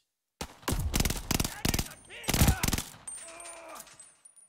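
Gunfire in the Call of Duty: Vanguard multiplayer video game: after a brief silence, a rapid burst of loud shots runs in quick succession, followed by fainter ringing and mechanical tones, with no voices heard.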